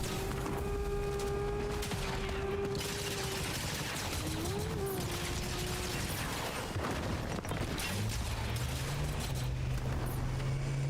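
Rapid bursts of submachine gun fire in a video game crackle continuously under a steady backdrop of engine-like hum and mechanical game noise, with no pauses or talk.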